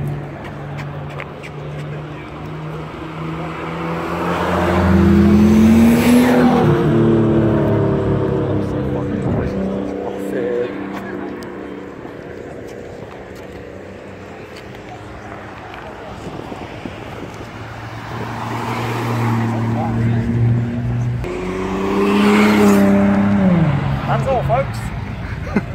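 A lowered turbocharged car accelerates hard up through its gears, engine rising in pitch in two loud surges with a gear change between, wind buffeting the microphone and excited voices talking over it.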